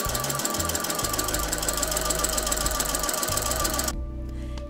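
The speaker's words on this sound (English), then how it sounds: "we're going to edge stitch the hem." Sewing machine edge stitching the lining hem of a camisole, a loud, steady mechanical whir with rapid needle chatter running continuously for about four seconds, then stopping abruptly to leave faint room noise.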